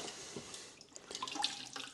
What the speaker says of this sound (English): fill up a bucket without anything, just no power, no anything. It's just gravity fed